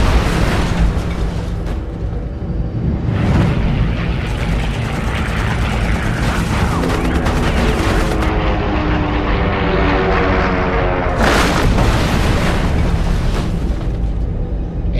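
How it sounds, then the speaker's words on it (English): A German FW-190 fighter going down, with a loud roaring propeller engine and heavy rumbling booms that swell and break off, then surge again near the end. "The FW-190 tumbles out of control."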